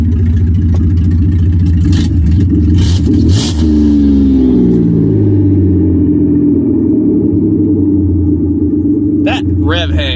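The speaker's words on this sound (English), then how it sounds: "That rev hang is atrocious." A Dodge minivan engine revs up loudly close by, then the RPM hangs and drops slowly back to idle in a drawn-out falling drone.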